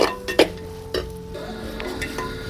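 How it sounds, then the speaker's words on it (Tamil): Onions sautéed in a pot over a wood fire for village-style mutton curry: a soft sizzle with a few sharp stirring clinks near the start and a steady low frying hiss after. "இப்போ இது எல்லாத்தையுமே நல்லா வதக்கணும்."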